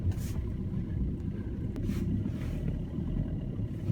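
A Fiat Linea car reverses slowly up a snowy, icy road, its engine a steady low rumble close by throughout.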